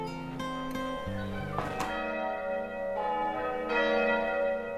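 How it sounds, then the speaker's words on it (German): Church bells of Maria Laach monastery peal in a full, sustained ring, overlapping strikes sounding continuously and fairly loud with no voices. "Der Tag im Kloster endet, wie er begann, mit Glockengeläut."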